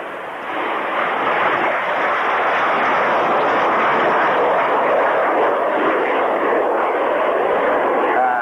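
A classic jet fighter roars past during a flying display at the 1998 Cranfield airshow, a loud, sustained, broadband engine blast that fills the whole stretch without letting up.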